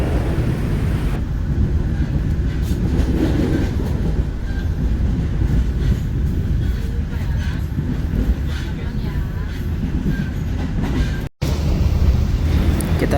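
Jayabaya passenger train rolling through a small station without stopping, a steady loud rumble of wheels and carriages from start to finish, heard from on board, with a brief dropout near the end.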